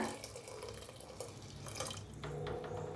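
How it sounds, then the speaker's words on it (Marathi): Hot water is poured into a cooking pan of dill vegetable dish, a faint steady trickle and splash that grows slightly fuller toward the end, with no talking. "ह्या हिशेबानं मी थोडंसं गरम पाणी वतणार आहे"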